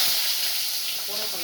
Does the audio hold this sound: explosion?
no